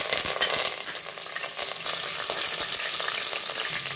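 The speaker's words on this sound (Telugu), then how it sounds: "ఇప్పుడు ఆయిల్ హీట్ ఎక్కిందండి ఇందులో ఫస్ట్ మనం కరివేపాకు" Curry leaves sizzle and crackle in hot oil inside a pressure cooker, a dense, steady close frying hiss with small pops that runs the whole time, with no voices.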